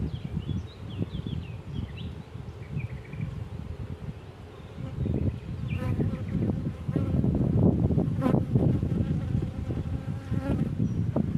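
Dense buzzing of many honeybees up close at an open hive, a continuous drone that swells louder in the second half, with occasional handling noises and bird chirps.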